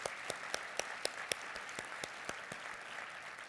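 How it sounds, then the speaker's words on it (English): Applause at a university awards breakfast, with a dense wash of clapping from the audience and a few sharper individual claps standing out, steady and moderately distant throughout. "I just want to give a round of applause for that work"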